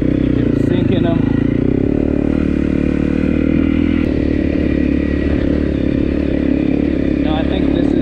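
A 2018 Honda CRF250L motorcycle rides off road over loose rocks, its steady engine drone close and loud, with clattering and scraping from the rocks and a rider talking over it.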